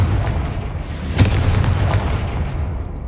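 A Confringo blasting spell goes off in a Harry Potter style video game: one booming explosion with a sharp burst at its peak, followed by a brief rumbling tail.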